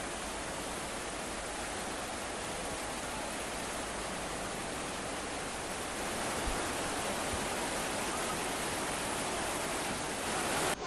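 Flood water rushing down a swollen river in Assam after an embankment breach, a dense, unbroken roar that holds steady and slightly swells toward the end, with no one talking.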